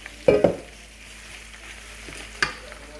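Onions and sweet fresh bekang vegetables stir-fried in a pan, a soft steady sizzle broken by a few sharp scraping clatters of the spatula mixing, close and quiet with no talk.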